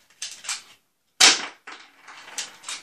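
Shots fired at a homemade target built to catch and collect the bullets, three or four sharp, close reports with the loudest in the middle, separated by brief silences.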